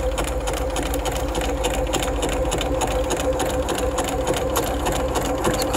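A Bernina 325 sewing machine runs a basic zigzag stitch in a fast, even, continuous whirring clatter, close and steady for several seconds with no talking.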